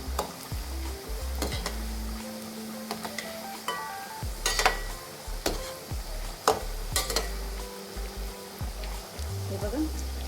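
Onion pakoras deep-frying in oil over a low flame, with a steady sizzle broken by sharp clinks and scrapes from a utensil turning them, as someone speaks over the cooking.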